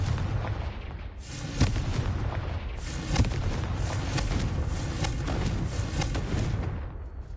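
A Confringo spell blast in Hogwarts Legacy, with booming fiery explosions and a continuous rumbling roar, several heavier thumps rising out of the dense noise, loud, with no talking.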